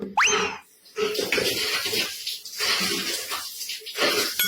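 Water runs from a tap in a steady, splashing stream that swells and eases in waves, fairly close and with no talking.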